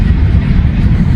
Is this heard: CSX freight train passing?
yes